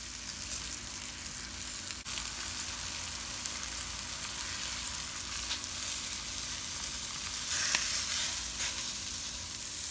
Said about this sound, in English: I'm just going to place the pork chop into the hot skillet